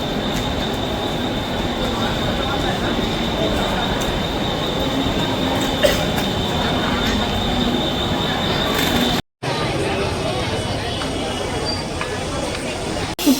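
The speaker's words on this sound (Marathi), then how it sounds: "हीच होती आपली ट्रेन." A Duranto Express train at Chhatrapati Shivaji Maharaj Terminus (CSMT) station rumbles steadily with wheel squeals and clatter, close and loud, while voices and station sounds carry underneath.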